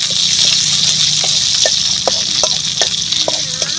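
Mustard seeds, garlic, dried red chillies and curry leaves sizzle in hot oil for a tempering in a village kitchen, a steady loud hiss broken by small pops and stirring scrapes, no voices.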